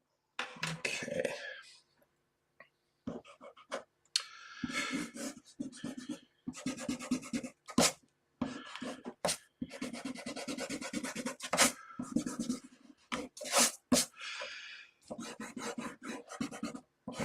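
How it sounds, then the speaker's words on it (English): An eraser nub rubs back and forth on drawing paper in short bursts with brief pauses between them, a close, quiet, dry scrubbing. "And I'm working with a eraser nub here."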